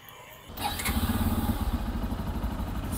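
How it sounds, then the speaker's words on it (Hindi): A 2024 Bajaj Pulsar N250 motorcycle starts up with a click and a crank, then settles into a close, steady, throbbing idle from its exhaust. "एग्जॉस्ट नोट चेकआउट करवाता हूँ।"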